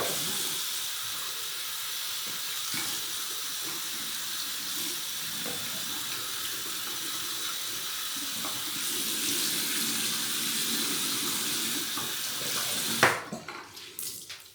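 Tap water running steadily while rinsing skin, a constant loud hissing splash that cuts off abruptly near the end, followed by a few drips and handling sounds.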